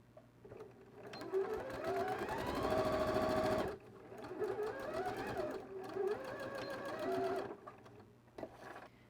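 A sewing machine stitches fabric scraps together with a half-centimetre seam, running in steady mechanical bursts of rapid needle strokes with brief pauses between runs, loud and close.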